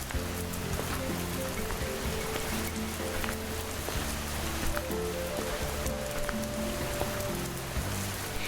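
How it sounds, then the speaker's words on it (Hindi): Rain in a Hindi cartoon, a steady dense hiss of falling rain that fills the whole stretch, with a soft musical score playing underneath and no speech. "अरे ये क्या, अचानक बारिश?"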